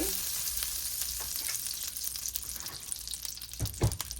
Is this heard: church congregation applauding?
no